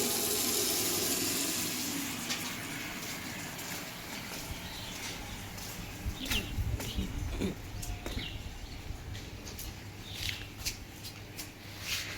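Water from a tap running steadily outdoors near a garden, a constant rushing flow with scattered splashes and clatter as something is rinsed or shifted under the stream, with faint background sounds.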